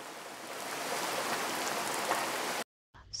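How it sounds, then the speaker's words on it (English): Steady rain falls with a dense, even hiss for more than two seconds, then cuts off abruptly into silence before a faint sound returns. "Soon the rain stopped."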